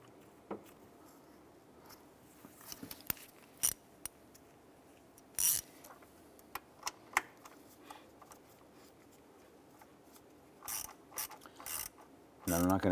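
Throttle body bolts are threaded by hand into a 2011-2018 Ram 1500, giving sparse metallic clicks, ratcheting taps and scrapes against a quiet background, with a cluster of sharper clatters near the end.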